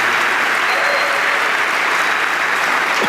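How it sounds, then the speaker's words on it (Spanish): Church congregation giving loud, sustained applause during an evening service. The dense clapping stays close and constant through the whole span, with no voices standing out. "¿Qué tal si le damos un aplauso bien fuerte a Jesús en esta noche por eso?"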